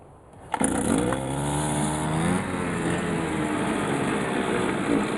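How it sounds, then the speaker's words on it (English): A Stihl FS280 weed wacker fitted with a blade starts up after a short quiet lead-in, its small two-stroke engine catching sharply and then holding a steady, loud high-rev whine close by for the rest of the clip. "So I'll start it again and you'll see it starts on high rev."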